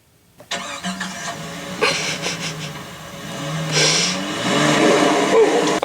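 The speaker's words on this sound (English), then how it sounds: "SUV, pull away, gravel." An SUV's engine starts and revs as it pulls away over gravel, a close mid-pitched engine note rising in two pushes with loose crunching and rumble toward the end, under faint background noise.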